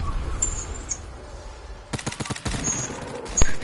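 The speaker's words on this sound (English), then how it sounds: "And I hear that shooting." A short burst of rapid video game gunfire cracks in the middle of a noisy game ambience, a quick rattling volley followed by a single louder shot, with faint chirping in the background.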